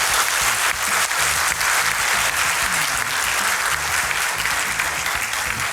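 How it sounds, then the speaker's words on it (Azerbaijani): Sustained applause from a studio audience at a comedy show finale, dense steady clapping that fills the whole stretch with no voices over it. "Mən istəyirəm ki, bəyənib bəyənmədiyinizi alqışlarınızla bildirəsiniz"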